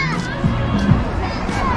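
A crowd gathers in a park during Georgia's Independence Day celebration, with children shouting and people chattering in a lively, continuous hubbub.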